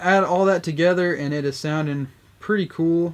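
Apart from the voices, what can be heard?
No everyday noise stands out behind the speech.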